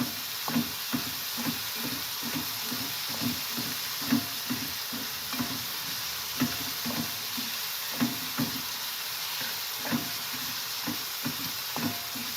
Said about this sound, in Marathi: हे बघा, जरा कोलमी शिजू दे.